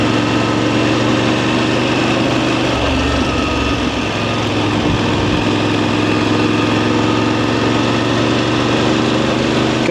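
VOGE DSX 900 motorcycle engine running steadily while riding in road mode, a continuous loud mid-pitched drone with steady harmonics and no clear rev swings, close to the microphone and alone without talk.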